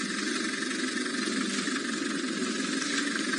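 Safari vehicle driving slowly in the dark, its engine a constant mid-pitched rumble with a broad hiss, steady and unbroken throughout with no voices.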